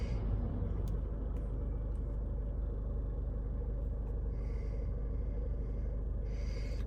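A Peugeot Expert van with a low urea fluid pressure fault idles with a low, steady engine rumble, even and unbroken, with only faint higher noises on top.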